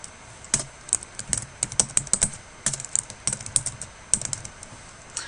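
Data goes into an Excel spreadsheet on a computer keyboard, heard as close, irregular bursts of crisp key clicks with brief pauses between runs, and no voices.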